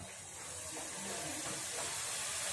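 Gram flour batter for boondi fries in hot oil, giving a soft, steady sizzling hiss that grows slightly louder over a couple of seconds.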